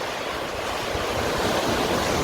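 Steady ocean surf roaring without a break at a rocky fishing spot on the coast of Uljin, Korea, a broad wash of rushing water mixed with some wind, with no voices.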